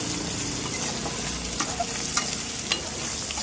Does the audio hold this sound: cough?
no